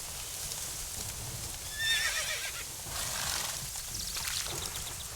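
The horse Roach in The Witcher 3 video game gives a bright whinny partway through, with rhythmic hoofbeats trotting under steady game ambience.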